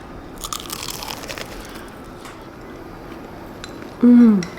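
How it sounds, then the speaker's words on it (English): Crisp crunching of a bite into crunchy food from a Yoshinoya beef bowl meal in Japan, close up, a few quick crackles over quiet background, followed by a brief voiced sound. "As soon as I sunk my teeth into it and I heard the crunch noise"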